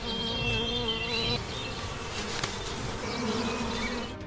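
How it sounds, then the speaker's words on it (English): A dense swarm of bees buzzes loudly and continuously, a steady droning hum close by. "it faced a strong retaliation from the bees trying to protect their home."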